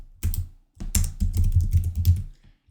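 Fingers tap out a word on a computer keyboard, close and clear, a short run of quick key presses with a couple of brief pauses and no voices.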